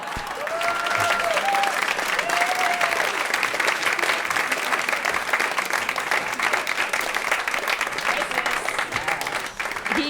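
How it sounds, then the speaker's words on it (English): Loud, sustained applause for a subway performer in New York City, a thick, even roar of many hands clapping with a few voices calling out over it. "He can definitely make a whole room applaud"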